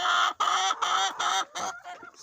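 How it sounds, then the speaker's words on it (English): A chicken on a small farm in Kenya gives a loud run of five or six harsh clucks in quick succession, close to the listener and with no talk over it. "Chicken is actually loud."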